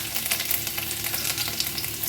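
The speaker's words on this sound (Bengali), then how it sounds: "রসুনটা আমার হালকা ভাজা হয়ে গেছে" Chopped garlic frying in oil in a pan while cooking kalmi shak, a steady close crackling sizzle that stays even and unbroken, with no voices.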